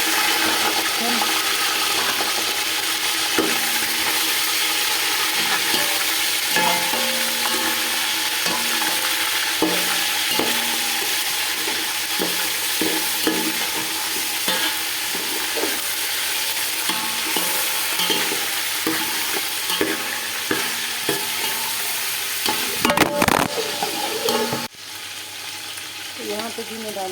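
Onions sizzling in hot oil while a spoon stirs and scrapes the pot for degi biryani, a continuous frying hiss with rhythmic scraping knocks, ending in a few louder clanks.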